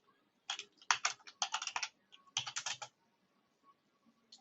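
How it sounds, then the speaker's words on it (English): Someone types a coupon code on a computer keyboard: quick close-up bursts of light key clicks in two short runs, then quiet, with no talk. "Now we will write here the coupon code,"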